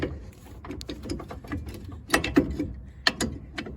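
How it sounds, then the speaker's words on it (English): A large wrench works loose a bolt on the engine of a Miller Bobcat 225 welder generator, giving a run of close metallic clicks and ratcheting taps, with a few sharper clanks near the end. "this is a huge wrench and I'm doing this with one hand"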